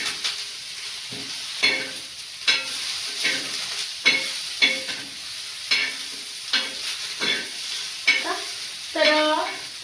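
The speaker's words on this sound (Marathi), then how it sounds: "तर आता ह्याला छान आपण भाजून घेऊया." Spices and masala for a traditional fish curry being stirred and roasted in a pan, with repeated scraping strokes over a soft sizzle, close and steady with no talking.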